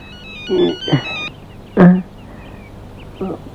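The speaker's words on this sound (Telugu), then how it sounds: "మళ్ళీ రింగ్ అయింది" A mobile phone ringtone chimes in short tonal bursts, then stops abruptly, followed by a sharp thunk and a faint later knock; close and clear, no speech.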